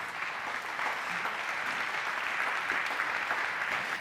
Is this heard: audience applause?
yes